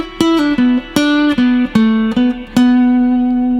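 Electric guitar playing a minor blues-rock lick: a handful of plucked, bending notes in a short phrase ending on a long sustained tone, loud and close with no talking.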